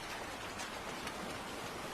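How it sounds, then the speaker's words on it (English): Ocean water in a VR fishing game hisses and splashes softly and steadily, a dense, even wash with faint droplet-like patter and no voices. "just take in the sounds of the ocean and the birds"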